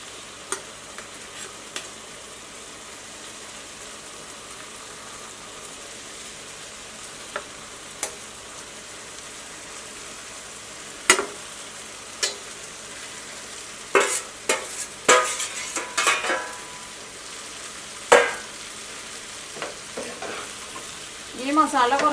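Fried sardines stirred into a sizzling masala in a pan: a low, steady background sizzle broken by sparse scrapes and then clustered clatters of a utensil against the pan, no talk.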